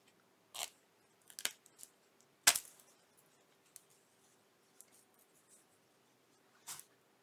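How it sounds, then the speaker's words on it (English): Paper torn by hand in a few short, sharp rips spaced apart, the loudest near the middle, in an otherwise quiet room with faint handling noises between them. "so I'm just going to rip it on down a little more"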